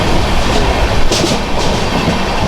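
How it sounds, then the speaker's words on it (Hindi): A Mumbai local train rumbles past close by, wheels clattering steadily on the rails, loud and continuous with no voices. "हर एक सेकंड बाद लोकल ट्रेन।"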